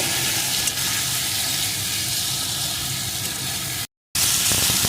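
Taro pieces frying in hot oil with salt and turmeric, giving a steady, close sizzle that runs unbroken before a short silent gap, then resumes.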